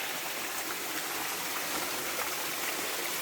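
A small flowing stream by a waterfall near Khao Phai, Pattaya, makes a continuous, even rush of water with a fine trickling texture. It is steady and fairly close, and no voices are heard.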